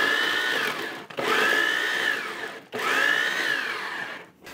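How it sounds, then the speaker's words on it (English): A small food processor blitzing smoked salsa ingredients, with three loud whirring pulses in a row. Each pulse runs about one to one and a half seconds, with brief stops between them. "I love this little food processor. It's gonna get loud."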